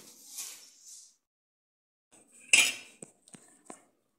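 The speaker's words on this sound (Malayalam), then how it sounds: "ഉരുളക്കിഴങ്ങും ഈ വടയുടെ മിക്സും കൂടി നമുക്ക് യോജിപ്പിച്ചെടുക്കാം" Metal utensil scraping and clinking against a bowl while potato is mixed into a lentil vada batter, in short bursts separated by silence, close and fairly quiet.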